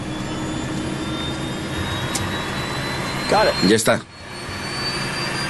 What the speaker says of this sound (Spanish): el sonido de los motores desde dentro de la cabina. Sigue acelerando.